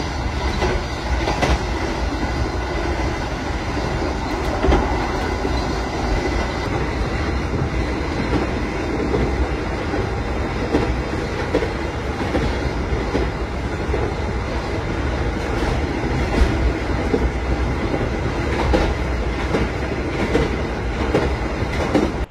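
Gajayana passenger train rolling on rails in a steady loud rumble, with faint wheel clatter and occasional squeal running continuously and close throughout, no voices.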